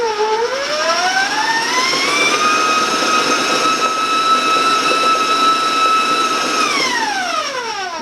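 Electric hand mixer beating marble chocolate cake batter at a higher speed, a steady loud motor whine that rises as it speeds up, holds level, then winds down near the end, with no talking.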